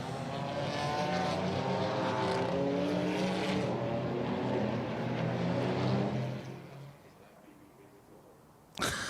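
DTM Trophy race cars roar around the Hockenheimring as the safety car comes in, a loud sustained engine drone with shifting pitch that drops away sharply near the end before a brief burst of noise.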